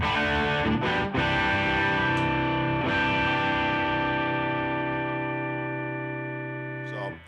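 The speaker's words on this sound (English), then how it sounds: "I got the overdrive from the amp." Electric guitar chords overdriven through the amp, gritty and loud, struck a few times and left to sustain before fading at the end.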